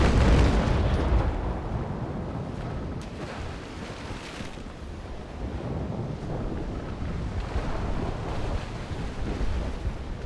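Cannon fire from a sailing warship in the Naval Action game: a heavy booming blast right at the start, followed by a long, rough rumble of wind and sea-like noise.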